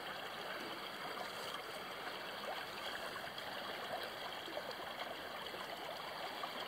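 Steady, continuous rush of a flowing stream in Kentucky's Red River drainage, a close, even babble of water running over shallows with no voices.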